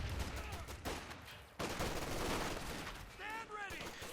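Sustained bursts of light machine gun fire rattle through a Company of Heroes 2 battle, dense and continuous over the game's clamor, with a commentator's voice faintly underneath.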